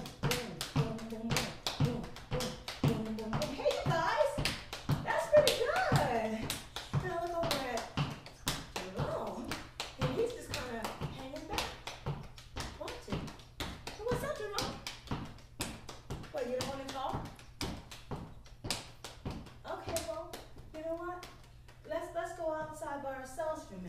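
Kids tap out a quick triplet-like beat on the floor with their hands, a dense run of close, sharp taps with a low thudding pulse under steady children's chatter and voices throughout.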